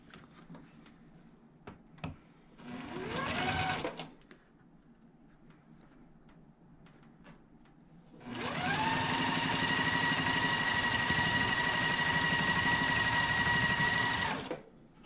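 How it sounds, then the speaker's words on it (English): Sewing machine joining small quilt block pieces: a short run of stitching that ramps up and stops, a pause with faint handling clicks, then a longer steady whirring run of about six seconds, close and clear. "I'm going to sew these smaller top portions onto the block."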